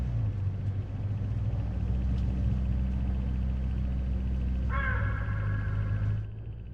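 Hooded crows caw along a road in the game Hitch Hiker, a short burst of harsh calls near the end over a steady low car rumble.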